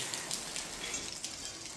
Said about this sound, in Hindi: बारिश बहुत तेज़ आ रही है